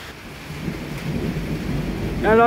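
A thunderstorm over Siegburg, Germany: steady rain and a low, rolling thunder rumble that builds over a couple of seconds, followed by a brief tonal sound at the very end.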